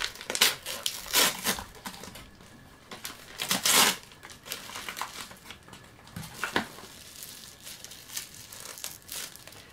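Crinkling and tearing of wrapping as a package holding a manga book is opened, loud papery bursts and rustles coming in uneven waves, close by with no speech.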